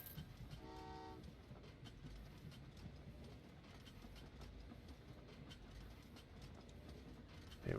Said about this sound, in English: Send the first passenger train.